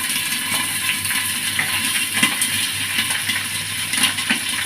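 Dry coconut roasting in a pan for a sesame brinjal gravy, a steady hissing rustle with faint occasional scrapes, close and continuous.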